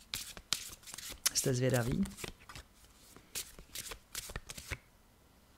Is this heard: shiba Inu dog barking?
no